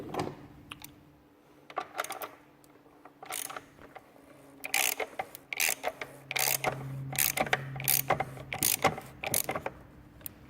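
A socket ratchet wrench works on a Ford Focus XR5 Turbo, giving bursts of rapid close clicking in repeated strokes, with metallic handling noises between the quieter pauses.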